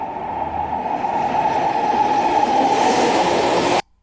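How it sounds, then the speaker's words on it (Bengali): An AI-generated train approaching from a distance: a steady, broad rumble with a grinding mid-range tone that swells slightly, then cuts off abruptly near the end. "দূর থেকে ট্রেন আসতেছে।"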